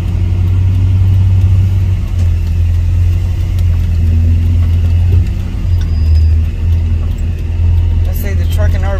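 A pickup truck towing an RV out of a muddy hole revs with a loud, sustained engine drone and rising and falling pitch, with voices talking over it.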